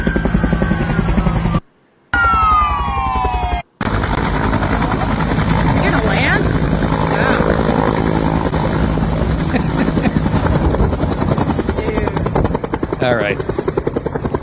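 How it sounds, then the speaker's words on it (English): A helicopter flies low over a street, its steady rotor thump and engine whine loud and close throughout, with a brief cut in the sound and a few spoken words. "they're watching this helicopter"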